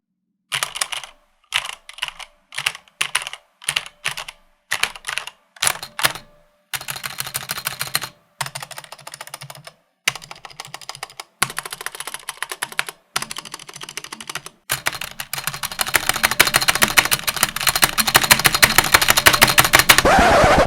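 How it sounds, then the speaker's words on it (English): A white Corsair K70 RGB mechanical keyboard with a rattling spacebar is typed on in separated bursts of sharp clicks, then in faster continuous clattering that grows louder toward the end, heard alone without voices. "Hearing that spacebar rattle continuously just drives me nuts."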